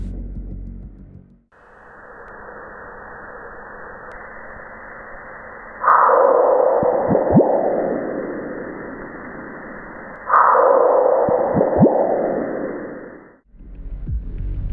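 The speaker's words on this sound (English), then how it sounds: "we can now hear meteoroid impacts on Mars" Seismic recording of meteoroid impacts on Mars played as sound: a low, steady rumbling hum with two stronger swelling bursts that slowly fade, each marked by a few sharp low thumps.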